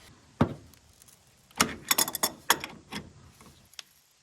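A wrench tightening a bolt on the brake parts of an abandoned Chevrolet S10 pickup, with a series of metallic ratchet clicks and clanks in short, irregular bursts, close by.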